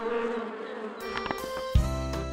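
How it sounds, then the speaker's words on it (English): Steady insect-like buzzing hum with layered tones, joined midway by a few sharp knocks and a heavy low thump near the end. "pursued by the swarming bees"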